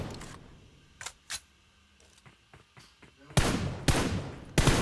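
Gunfire in PUBG Mobile on the Miramar map: scattered single shots crack at first, then loud rapid bursts of automatic fire erupt close by in the second half, rattling in quick clusters.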